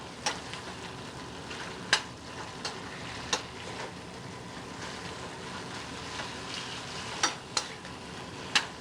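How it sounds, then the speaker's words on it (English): Steady soft sizzle of food sautéing in a pan with oregano and a pinch of salt, with occasional sharp clicks and scrapes of stirring over the constant hiss. "Again, we'll saute this like that."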